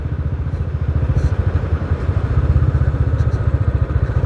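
A Royal Enfield Bullet motorcycle thumps along on a paved road, its steady low rhythmic exhaust beat pulsing loud and close throughout, with no talking.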